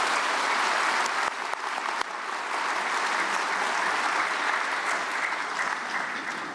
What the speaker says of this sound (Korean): 나오실 때 큰 박수로 환영하시겠습니다